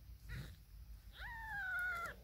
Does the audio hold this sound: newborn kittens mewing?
yes